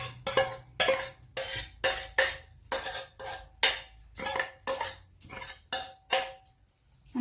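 Soaked poha is scooped with a spoon into a large metal vessel, giving a steady series of sharp clinks and scrapes, about a dozen knocks in an uneven rhythm, close and clear with no talk.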